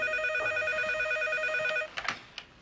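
An electronic telephone rings in a steady warbling tone indoors for nearly two seconds, then stops as the handset is picked up with a few clunks.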